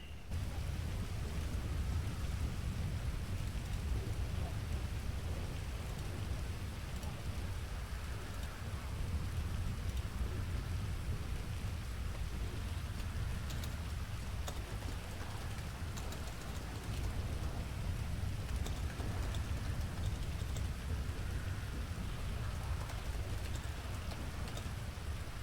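Steady rain pours through a thunderstorm, a dense unbroken hiss with low rumbling underneath, continuous and fairly faint throughout.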